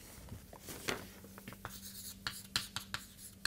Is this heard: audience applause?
no